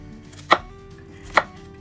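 A knife finely chops red onion on a board: two sharp, close thuds about a second apart against a quiet background.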